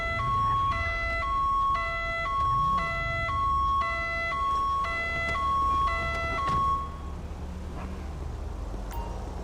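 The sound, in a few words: police siren in a video game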